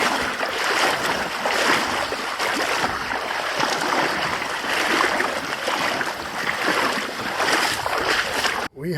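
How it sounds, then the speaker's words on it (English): A canoe is pushed by hand through a shallow stream on a northern Ontario autumn route, giving continuous loud splashing and rushing water close by, with a brief cut at the end. "only you're in the water and you're pushing a canoe"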